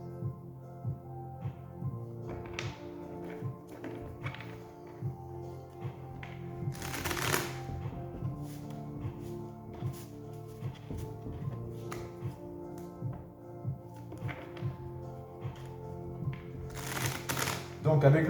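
Tarot de Marseille cards being shuffled by hand, soft repeated riffles and taps spread over the clip, close and fairly quiet, with a voice talking underneath.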